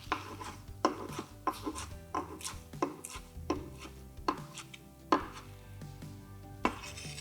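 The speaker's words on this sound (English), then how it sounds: "Now, I just want to chop that meat up." A knife chops meat cut from the front of the tail, about ten sharp, evenly spaced thuds on a board, close and clear over a faint background hum.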